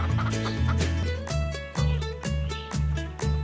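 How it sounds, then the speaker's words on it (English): Cartoonish chickens in the video game PAW Patrol Rescue World cluck in quick repeated bursts over a bright, tonal musical backing, each cluck a short rhythmic stab. "Find all the chickens and bring them back to the coop"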